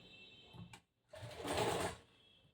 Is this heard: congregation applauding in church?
no